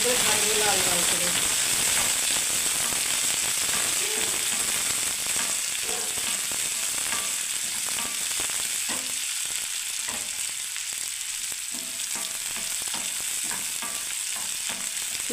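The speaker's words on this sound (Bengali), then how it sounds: "দেখুন পেঁয়াজটাকে আমি করে ভাজবো লাল লাল করে" Onions frying in a pan until reddish, a steady close sizzle and hiss with intermittent stirring scrapes, holding at an even moderate level throughout.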